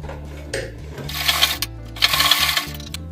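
A sewing machine stitching fabric for a hair rubber band runs in two short bursts of rapid mechanical chattering, close and fairly loud, separated by brief pauses with a low motor hum underneath.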